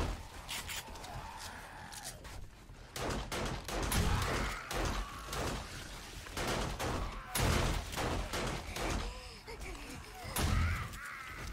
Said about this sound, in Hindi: मैं खुद ही चला रहा हूँ ये टरेट